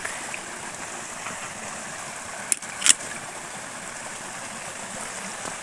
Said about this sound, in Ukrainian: струмок.